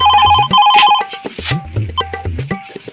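An electronic phone ringtone chirps in repeated bursts, with a person's voice and other sounds breaking in between the rings.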